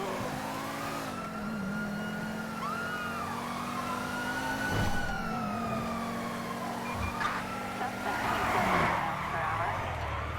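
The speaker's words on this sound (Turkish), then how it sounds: "bu araç kayıyor" Tires skid on a car in the video game GTA 5, a rising and falling squeal over a steady engine drone, with sirens wailing in the background.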